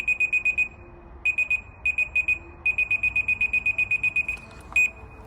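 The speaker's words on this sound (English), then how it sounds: "When you lower that into the beam," A laser level detector lowered into the beam gives rapid electronic beeping in repeated bursts of quick pulses, loud and close, with short pauses between groups.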